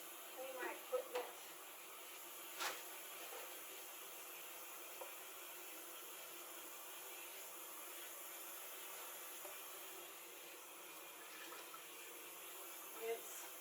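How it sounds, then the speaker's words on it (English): A faucet runs during the emptying of a urinary drainage bag in a care setting. It makes a faint, steady hiss of flowing water, with a few soft knocks and clinks. "you turn on my faucet"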